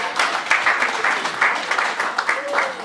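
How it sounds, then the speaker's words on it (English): A congregation at a memorial service of songs claps in rhythm, a steady patter of hands with a voice speaking over it. "Let's give the Lord a big clap"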